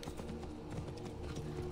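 Steady clip-clop of horse hooves trotting at a moderate pace in Assassin's Creed Origins, close and even, over a low droning background with no voices.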